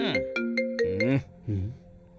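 A phone ringtone plays a bright melodic electronic tune in repeated short phrases, fairly loud and close, with a brief pause before it resumes.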